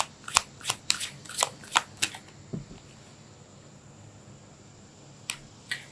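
A deck of tarot cards is shuffled up close, with about eight quick crisp riffling bursts in the first two seconds, a quiet pause, then one brief flick near the end.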